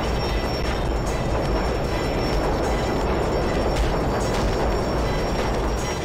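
A train thunders past in the Def Jam Fight For New York video game, a loud, continuous broadband roar and rumble that fills the whole stretch with no voices over it.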